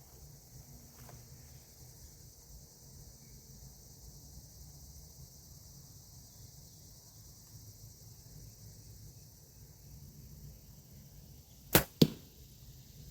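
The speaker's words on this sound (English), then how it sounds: "So let's take one shot and see if I can hit it at 15 yards." One arrow is shot at 15 yards into a mini black bear archery target outdoors, giving a sharp double crack of release and impact near the end, heard against a quiet background of faint insects.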